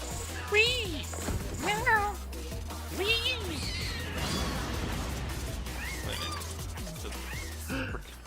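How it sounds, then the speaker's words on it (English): A cat boss in the Final Fantasy XIV raid lets out a string of squeaky, mouse-like meows amid combat hits and game effects, with a player talking over the fight. "Because it's not even meowing, it's just like making half squeaky noises."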